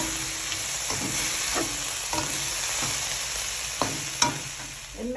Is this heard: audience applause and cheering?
no